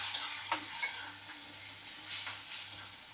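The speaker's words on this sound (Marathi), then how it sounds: "कढीपत्त्याची फोडणी दिली" Curry leaves tempered with onion and tomato frying in a pan give a steady close sizzle, with a few sharper crackles and stirring scrapes rising above it and no voices.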